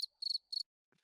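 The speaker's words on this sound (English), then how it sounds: "you can edit in some cricket noises, Chev." Cricket chirps edited into a podcast as a joke: three crisp, high trilling bursts in a quick even rhythm, clean and alone against silence, followed by a faint brief rustle.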